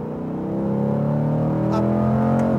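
A Chevrolet Corvette C8 on a race track accelerates hard with a rising, steady engine roar, close and loud with no talking.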